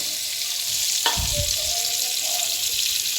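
Cumin seeds hit hot oil and a steady close sizzle rises, with a brief clatter as they drop in and then an even frying hiss throughout.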